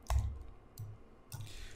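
Three separate keyboard taps on a computer keyboard during a programming session. The taps are spaced well apart, sharp and moderately close, with a quiet room hum between them and no talk.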